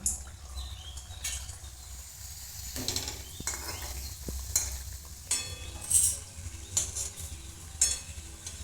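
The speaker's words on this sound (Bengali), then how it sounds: "এইভাবে আমি সবগুলোকে ভেজে নেব" Potato kachori deep-frying in hot oil: a steady bubbling sizzle with soft crackles and occasional stirring scrapes, close and moderately loud, with no talking.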